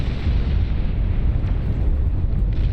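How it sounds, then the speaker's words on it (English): A nuke explodes in an 8v8 match of the strategy game Beyond All Reason, giving a loud, sustained, deep roaring rumble that fills the whole moment without a break. "Another massive explosion in the backline here, shutting down all of the production from the dark green player"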